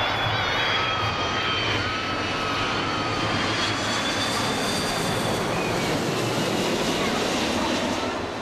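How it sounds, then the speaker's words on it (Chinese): A jet airplane roars steadily at an airport terminal, heard from Terminal 3 as a loud, sustained engine rush that holds across the whole stretch with no pauses. "今天飞机来了"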